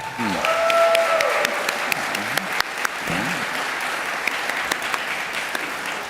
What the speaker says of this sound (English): A round of applause again for Josh Riddick